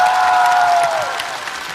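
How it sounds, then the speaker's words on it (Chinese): A stand-up comedy show audience clapping to welcome the comedians: a close, dense wash of applause with a steady sustained tone beneath, fading gradually. "来，掌声送给即将给我们带来快乐的优秀的脱口秀演员朋友们。"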